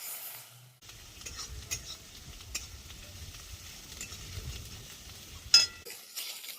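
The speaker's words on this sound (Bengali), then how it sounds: "পেঁয়াজ বাটাটা দিয়ে ভালো করে কষিয়ে নেবো" Onion paste frying in a pan while being stirred, with a soft continuous sizzle, scraping spoon strokes and a brief sharper clatter near the end; no voices.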